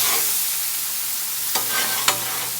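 Beef lo mein sizzling hard on a very hot Blackstone griddle, a steady bright hiss with two quick spatula scrapes near the end and no voices.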